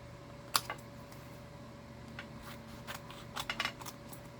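Scissors cutting paper for a card craft, a few close, quiet snips and rustles spread over the moment.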